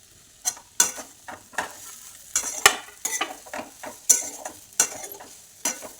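Tomato poha is stirred in a frying pan, with about a dozen sharp spoon scrapes arriving in an uneven rhythm over a faint, steady sizzle, close up and without talk.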